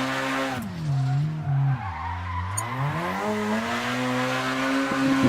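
Drifting car in the Assetto Corsa racing game on the Daggerfall drift track: a loud, continuous engine drone rises and dips in pitch as the revs change, with tire skid and squeal running steadily beneath it.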